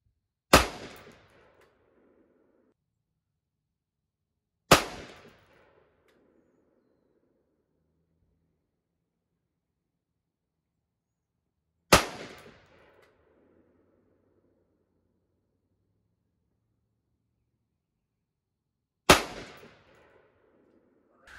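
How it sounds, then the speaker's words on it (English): Four single carbine rifle shots ring out on a range while the rifle is zeroed, each a sharp crack with a short decaying echo, spaced several seconds apart with silence between. "let's see what happens with the last 5 shots"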